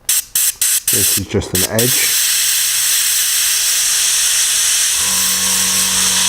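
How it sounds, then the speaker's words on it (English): An airbrush sprays paint onto a model in several short hissing bursts, then one long continuous close hiss, with someone speaking briefly during the early bursts. "I'm using my finger to stop that overspray going where I don't want it."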